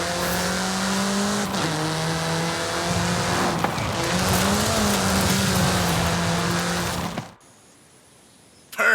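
A road-legal track car drives hard in Forza Horizon 5, its engine droning and revving up and down with shifting pitch and some tire squeal, loud and continuous for about seven seconds before cutting out abruptly.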